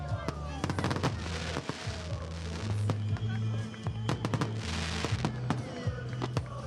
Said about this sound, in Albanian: Është zhurmë e madhe, kuptoj, dëgjoj fishek zjarrit, i dëgjoj broritmat e tifozëve